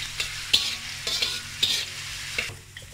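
Crushed and minced garlic frying in a little oil for fried rice, a continuous sizzle broken by repeated scraping strokes of a spatula against the pan, close and fairly loud.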